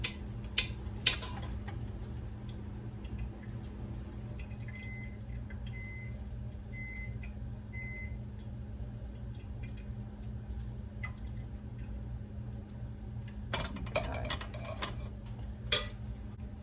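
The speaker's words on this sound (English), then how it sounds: "I'm actually gonna mash it some with our spoon" A spoon mashes herbs steeped in oil in a dish for a homemade muscle and joint salve, making faint, scattered clinks and soft scrapes against the dish, with a cluster of quicker taps near the end over a low steady hum.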